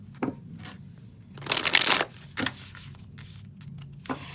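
An oracle card deck is shuffled up close, a few soft flicks followed by one long, loud riffling burst and scattered lighter card taps.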